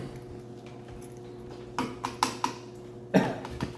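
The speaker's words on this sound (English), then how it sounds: "Oh, there's a cough." A few short, sharp coughs come in a quick cluster near the end, after a quiet stretch of soft background hum, during a swallow assessment.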